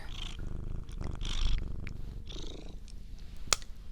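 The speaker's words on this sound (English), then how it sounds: "I hope you guys don't mind the purring in the background." A cat purrs steadily and close by, a low rumbling buzz with breathy in-and-out pulses, continuing throughout without speech.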